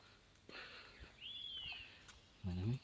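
Morning bird song outdoors, one faint clear whistled call sweeping across the middle, with soft rustles and a short voice at the end.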